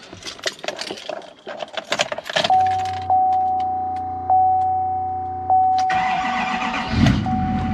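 After some handling noises, a Duramax L5P diesel truck engine cranks with a steady whine and chime for a few seconds, then catches and rumbles into idle nearby.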